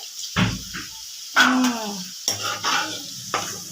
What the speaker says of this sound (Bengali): আমগুলো ভাজি থালাতে তোলো, তুলতে থাকো তুলতে থাকো